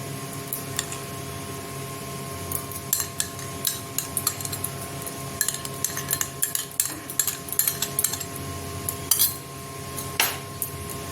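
A spoon stirs sugar into a mixture for begun bhapa, clinking and scraping against the bowl in quick irregular taps, close and fairly crisp over a quiet background, with no talking.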